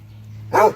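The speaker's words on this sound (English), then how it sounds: "You noisy basset." A basset hound lets out a single short, loud bark that slides into a whimpering yelp near the end, close by, after a stretch of quiet room hum.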